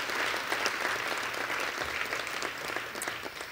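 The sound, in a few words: audience round of applause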